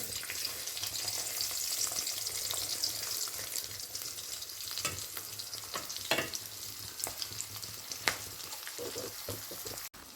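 Salted ivy gourd stir-fries in a pan for a Kerala-style upperi, giving a steady loud sizzle with occasional scraping stirs and clatters throughout.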